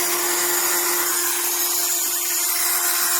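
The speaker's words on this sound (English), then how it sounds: "Listen to that noise." A HARDELL 12V cordless USB-C mini rotary tool runs steadily with a loud, high-pitched whine and a grinding motor drone, close and continuous without any talking.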